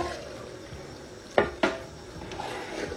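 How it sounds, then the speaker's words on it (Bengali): Fresh ginger-garlic paste gets stirred into spices in a pan, with two distinct metallic spoon knocks against the pan over a low, steady sizzle. "এবার ফ্রেশ আদা রসুনটা মিক্স করব"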